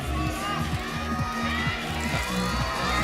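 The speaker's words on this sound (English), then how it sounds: "And you can hear the crowd in the background" Crowd cheering at a lead climbing semi-final in Koper, a steady wash of distant shouting and cheers beneath a rhythmic pulsing beat, with a voice talking over it.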